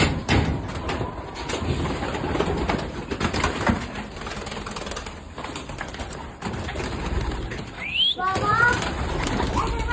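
Pigeon cooing softly under ongoing speech and handling noises, with a brief rising call and flutter near the end.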